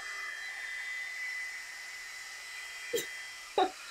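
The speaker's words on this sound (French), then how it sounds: "donc soufflerie du sèche-cheveux" A GHD Duet Style hair dryer blows with a steady airy whine, joined near the end by two short clattering knocks.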